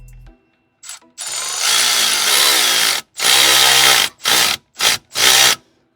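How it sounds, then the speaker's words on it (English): A tool works on the sway bar link of a 2012 Chevy Impala: one long, loud, close burst, then three short bursts separated by brief pauses. "We're gonna put a wrench from the bottom side."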